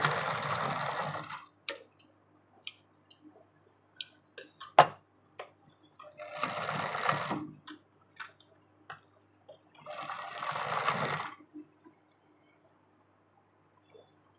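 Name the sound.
sewing machine basting stitches on blouse fabric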